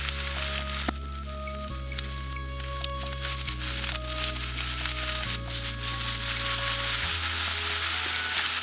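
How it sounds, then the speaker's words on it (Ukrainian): Champignon mushrooms frying in two to three tablespoons of refined oil until golden, a steady sizzle and crackle running throughout under background music, with no talk. "печериці обсмажуємо на 2-3 столових ложках рафінованої олії до золотистого кольору"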